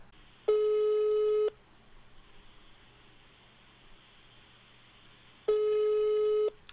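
Telephone line in a phone prank call sounding two long electronic tones about four seconds apart, loud and steady against faint background hiss, with no voices answering.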